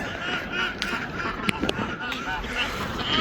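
Pet ducks squawking and quacking in a backyard coop near a pond, a few short calls scattered over a busy, noisy background with other birds, fairly close and not very loud.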